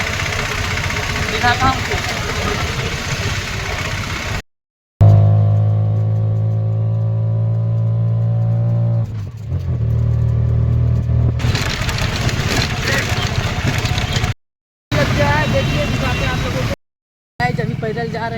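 A tempo auto-rickshaw engine runs with a loud, throbbing idle that settles into a steady drone while driving, heard close up, with someone talking over stretches of it and brief cuts of silence between segments.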